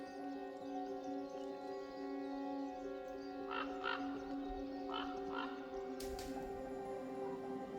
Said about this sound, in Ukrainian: Крук охороняє своє гніздо.